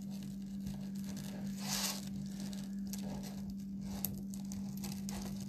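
Craft material being scrunched up along its cut edge gives a soft, close crinkling and crumpling rustle over a steady low hum, with no talking.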